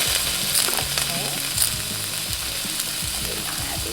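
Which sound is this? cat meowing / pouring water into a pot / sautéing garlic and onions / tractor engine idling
sautéing garlic and onions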